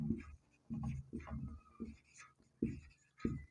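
Chalk or pen strokes on a board during a Hindi-language Class 9 maths lesson on number systems, a run of short scratchy bursts with brief pauses between them, fairly close and moderately loud.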